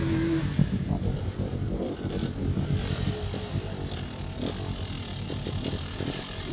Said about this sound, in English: That noise makes me want to get on my bike.